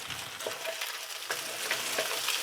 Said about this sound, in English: As it's still sizzling, we'll put in half our chopped onion.